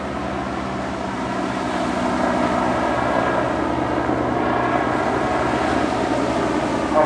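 A Westland Wasp helicopter flies a display at the English Riviera Airshow, its engine and rotor giving a steady, moderately distant droning whine that holds constant for several seconds.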